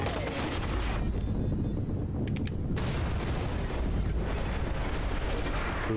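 Shotgun blasts in the Fallout 76 video game, dense and sustained gunfire-like bursts filling the whole stretch at steady loudness, with a brief mechanical clatter partway through.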